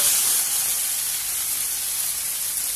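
Ginger garlic paste frying in hot oil gives off a steady, close sizzling hiss that runs evenly from start to finish, with no voices over it.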